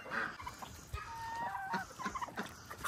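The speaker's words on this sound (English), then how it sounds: "Here comes all the chickens." Chickens clucking at feeding time in a backyard flock kept alongside ducks and a turkey, soft scattered clucks and calls close by with light rustling and no talk.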